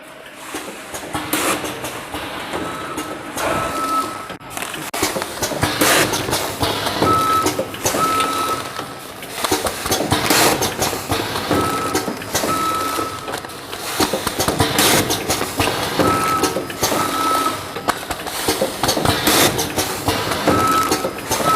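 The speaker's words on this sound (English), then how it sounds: "Let's start the machine." A small sachet packing machine for grain, rice or coffee beans runs steadily, with dense mechanical clatter, rhythmic clicks and periodic short electronic beeps repeating throughout, close and fairly loud with no talk.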